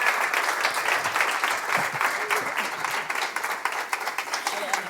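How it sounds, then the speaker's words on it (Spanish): An audience at an event at the UPV gives a speaker a lively welcoming round of applause, the clapping steady and close, with a voice briefly audible beneath it. "pido un fuerte aplauso para Mercedes y para darle la bienvenida"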